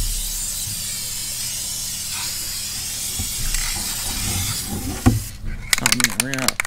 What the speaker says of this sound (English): You're gonna wanna start on the edge and then spray.